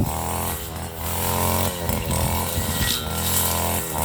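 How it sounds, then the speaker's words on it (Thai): A grass cutter with a small two-stroke engine trims grass outdoors, droning loud and steady with brief dips in pitch as the load changes, and no talk over it. "นี่นะครับคนตัดหญ้าของเรา"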